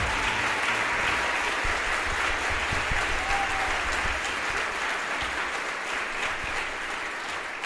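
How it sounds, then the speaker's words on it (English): Sustained applause from a large audience at a high school band concert, steady and dense throughout without talk, easing slightly toward the end. "Please give them a round of applause."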